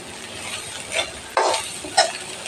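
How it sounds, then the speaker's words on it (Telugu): Small shrimp fry in a pan with mint and coriander under a constant close sizzle, broken by two or three sharp scraping stirs of a spatula. "ఇది బాగా కలుపుకొని బాగా వేగనివ్వాలి."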